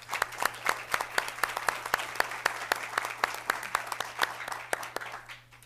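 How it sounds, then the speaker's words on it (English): A room full of people at a school board meeting applauds a Marine Corps Junior ROTC unit, with brisk, moderately loud clapping that stays steady and then tapers off slightly. "Let's give them a round of applause."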